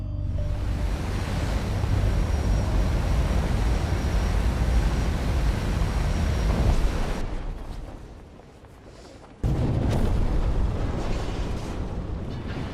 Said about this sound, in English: Players that happen to fly over here will have the engine of their plane failing.